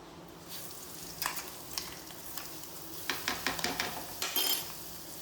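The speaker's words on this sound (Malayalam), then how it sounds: "കടുക് പൊട്ടുമ്പോ നമ്മള് ചതച്ച് വെച്ച വെളുത്തുള്ളി, ചെറിയുള്ളി കേട്ടോ, അത് ഇതിലേക്ക് ഇടുന്നുണ്ടേ" Crushed garlic and shallots dropped into hot oil with popping mustard seeds, a steady sizzle broken by a run of sharp metallic clinks and scrapes of a spoon stirring the pan, with no voices.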